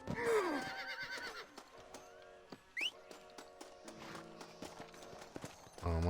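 A horse whinnies loudly at the start in the Western video game Red Dead Redemption, followed by scattered hoof clip-clops and faint game sounds.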